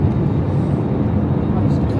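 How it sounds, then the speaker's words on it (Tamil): Inside an airplane cabin descending to land on a trip to Scotland, a steady, loud low-pitched roar and rumble of engines and airflow fills the space continuously without a break. "ஃப்ளைட்டு இறக்குற மாதிரி இருக்குது."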